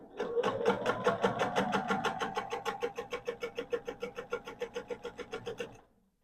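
A sewing machine stitches a diagonal seam across a ribbon bow quilt block, running alone in a fast, steady rhythm of needle strokes close by before stopping near the end.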